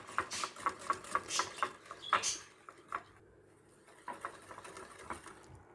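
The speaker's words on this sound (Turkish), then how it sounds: "Şimdi güzelce iyice bir çırpacağım." Lemon cake batter with powdered sugar is whisked by hand in a bowl, producing a quick series of close, rhythmic clicking taps that pause briefly and then resume more lightly.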